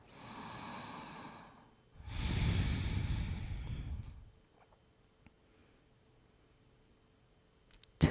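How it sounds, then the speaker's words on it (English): A deep breath during a beginner morning yoga flow: a soft inhale followed by a longer, fuller exhale, close and gentle, then near silence. "And take another deep breath here."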